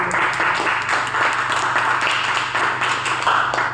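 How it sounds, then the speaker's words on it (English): An audience at a speakers' club meeting claps for a speech, a fairly steady patter of many hands at moderate loudness, continuing without pause to the end. "May I request all the audience to give a thunderous applause for his speech."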